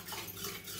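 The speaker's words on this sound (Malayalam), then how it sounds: "നന്നായിട്ടൊന്ന് ഇളക്കി ചേർക്കാം." A spoon stirs cooked dal (parippu) in a pressure cooker pot, a soft, steady scraping and slushing that runs quietly throughout with no talk.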